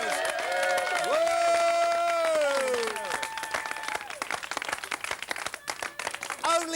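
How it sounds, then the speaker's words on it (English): A television studio audience claps and cheers, building into a dense burst of applause that carries on under a presenter's voice and fades out over a few seconds. "Give her a nice round of applause."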